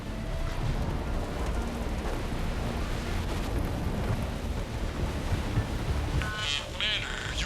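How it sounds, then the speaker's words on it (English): A storm roars in the video game Mass Effect 3, a heavy, continuous rumbling wash of wind and thunder-like noise, with bursts of crackling radio interference breaking in near the end. "Storm's causing interference."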